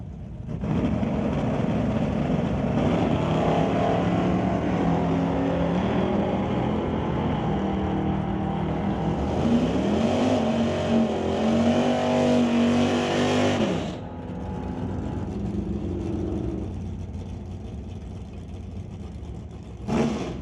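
A 1978 Malibu and a 1989 S10 drag race, their engines a loud, sustained roar that swells and sweeps in pitch for about fourteen seconds, then falls back to a steadier, lower rumble.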